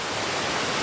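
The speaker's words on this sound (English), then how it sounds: "we're here at this waterfall" A waterfall pours over basalt rock formations in Iceland, a dense, steady roar of rushing water filling the whole 0.9 s clip at constant loudness with no voices.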